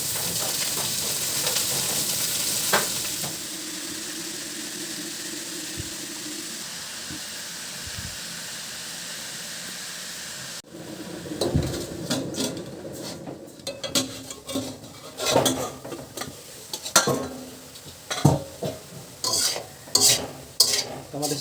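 Leafy greens fry with onions in a pan, starting with a steady hiss and sizzle. After about ten seconds the greens go in, and uneven bursts of stirring and scraping take over until the end.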